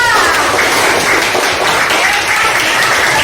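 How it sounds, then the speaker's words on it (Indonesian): Students in a classroom applaud a classmate named Maya, steady, dense hand clapping close and loud, sustained evenly from start to finish. "Tepuk tangan untuk Maya."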